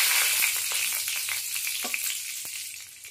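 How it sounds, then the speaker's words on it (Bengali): A torn bay leaf sizzling in hot oil, a steady close crackling hiss with scattered sharp pops throughout, slowly easing in loudness. "ওই তেলের মধ্যে একটা তেজপাতা ছিঁড়ে নিয়েছি"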